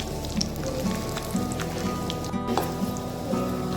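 Cashews roasting in a pan for South Indian coconut rice, sizzling steadily with soft popping and crackling ticks over a low background hum, close and moderately quiet.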